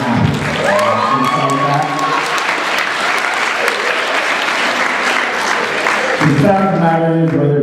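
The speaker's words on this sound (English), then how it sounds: "I want a big round of applause for Evan and Deborah" Loud applause and cheering from a crowd at a university student awards ceremony, with whoops and shouts over a dense wall of clapping that continues throughout, voices rising again near the end.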